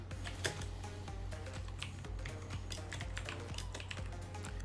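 Rapid, steady keystrokes on a computer keyboard, close and fairly quiet, tapping continuously over a low electrical hum.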